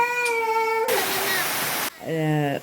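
A forest waterfall rushes in a loud, dense burst of falling water for about a second, framed by sung or hummed voices before and after.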